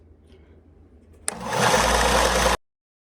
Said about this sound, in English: I'm going to smooth them out on the belt sander here